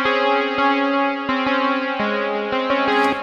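Two Serum synth sounds layered with three-voice unison play a short run of sustained chords, bright and full with shimmering upper harmonics and a brief rising sparkle at the end, no talking.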